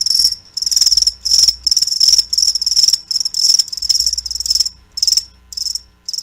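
Loud, close crickets trill in rapid, nearly continuous bursts separated by short gaps, with no voices present.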